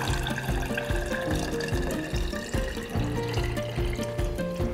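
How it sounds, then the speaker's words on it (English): Cold brew coffee strains through cheesecloth into an empty jar, a steady continuous trickle of liquid running for several seconds without pause and without any talking. "We're gonna strain the coffee through the cloth into the empty jar."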